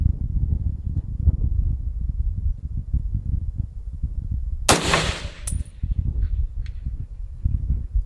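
A single sharp AR-10 rifle shot fired at a long-range target outdoors cracks out about midway, leaving a short ringing tail above steady wind-like background noise.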